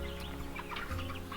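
Cornish Cross meat chickens clucking in an open field, a steady murmur of soft clucks and chirps from the flock at close range, with a constant low rumble underneath and no one talking.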